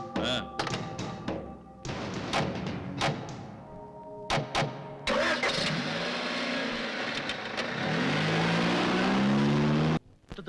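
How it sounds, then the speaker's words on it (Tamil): A car engine starts and revs as the vehicle backs up, with a few heavy thuds and door-like knocks beforehand, then a steady rising engine drone, mid-distance and fairly loud. "வண்டியை பின்னாடி எடுத்துருவோம்."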